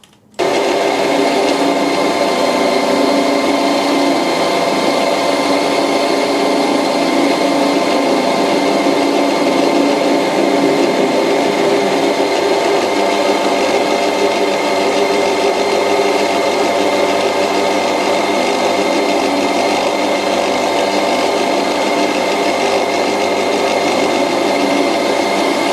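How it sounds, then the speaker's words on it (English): Metal lathe fitted with a Dixon quick change tool post, running at 1600 RPM, a loud steady whirring drone with strong high tonal whine that holds unbroken for about 25 seconds after a sudden start. "I'm actually running the lathe at 1600 RPM"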